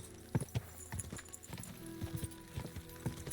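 Horse hooves clip-clop at a gallop in the medieval game Kingdom Come: Deliverance II during a horse race, a steady rhythmic run of thudding hoofbeats, fairly close, with no talk.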